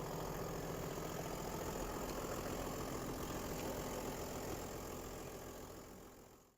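A Land Cruiser turbo diesel engine idles steadily, recorded up close with a low, even rumble that holds for several seconds before fading out at the end.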